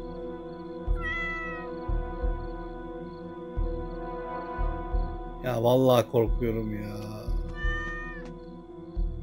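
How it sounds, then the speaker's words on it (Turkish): A cat meows several times in the horror video game DreadOut 2: short, rising cries with clear harmonics, near and fairly loud, with a player's voice talking over and between the meows amid a steady low game ambience. "Kedi."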